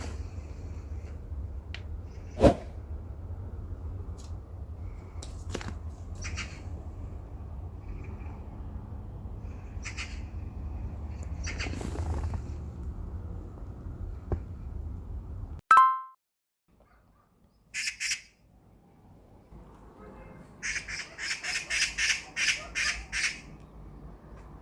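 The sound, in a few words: birds singing outside the window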